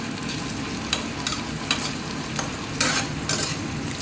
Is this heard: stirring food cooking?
yes